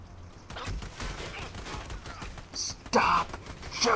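Rapid gunfire crackles through a firefight in the co-op shooter Army of Two, with dense bursts continuing throughout and a louder volley near the end, while voices are faintly present underneath.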